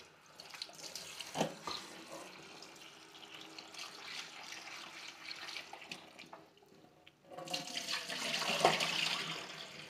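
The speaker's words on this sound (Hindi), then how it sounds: "अब हम दोबारा से सिंक की तरफ जाएंगे टैप खोलेंगे" Tap water runs into a sink over strawberries being washed, a steady splashing that grows louder and fuller toward the end, with a few clunks and knocks along the way.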